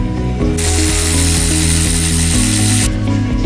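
A ratchet removes 13mm brake caliper bolts on a Jeep JL axle, producing a loud close buzzing and rhythmic clicking for a few seconds with a harsh hiss across the middle.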